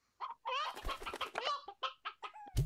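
Chickens in the video game Slime Rancher give a quick run of close, clear clucks and squawks, about a dozen short calls in an uneven rhythm, with no talking.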